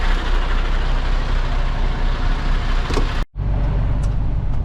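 A truck hauling a combine header pulls away and gives a loud, steady engine and road rumble up close. The sound cuts out briefly near the end, then the drive resumes.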